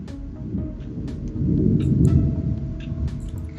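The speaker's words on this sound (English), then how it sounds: "You have thunder there? Yeah, it's the daily thunderstorm." Low, rolling thunder from a real daily thunderstorm outside, rumbling steadily and swelling toward the middle as a distant, continuous roar with no voices.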